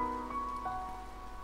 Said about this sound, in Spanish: Espera, ¿con esta lluvia?